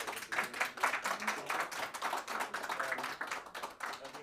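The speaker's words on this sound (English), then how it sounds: "A round of applause for the" Conference audience applauding after a talk: a quiet round of distinct hand claps in a fairly fast, uneven patter, sounding from a modest crowd a little way off, with no voices over it.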